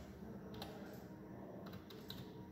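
Computer keyboard keys typed in a quiet room, a few soft, faint clicks spread over a couple of seconds.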